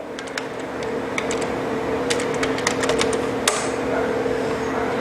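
Computer keyboard typing as a username is entered at an Oracle SQL Plus login prompt, a short run of light clicking keystrokes over steady fan or room hum.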